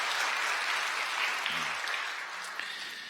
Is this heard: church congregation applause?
yes